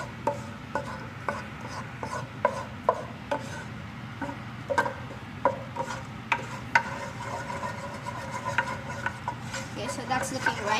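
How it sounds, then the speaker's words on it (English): A spoon works a butter and flour mixture around a pot, producing repeated soft scraping and tapping strokes in an irregular rhythm, close and moderately loud over a low background hum. "just keep stirring it, because once again, you don't want the butter to melt"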